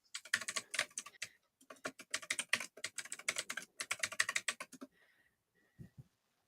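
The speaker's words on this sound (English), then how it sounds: "I like the ASMR typing sound there" Fast, close clicking of a computer keyboard comes in quick bursts with short pauses. The typing is quiet and crisp, and it stops near the end.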